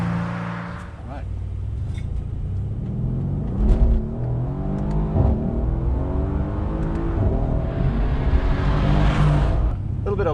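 A Mercedes-AMG C63S bi-turbo V8 pulls away from a standstill, its engine note rising and shifting through gears as a low rumbling drone under people talking inside the cabin.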